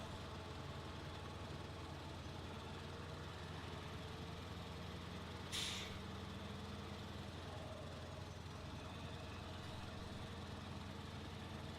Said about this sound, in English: definitely different truck sound, so that's a nice change.